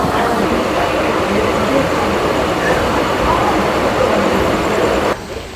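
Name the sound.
local train arriving at Santragachi station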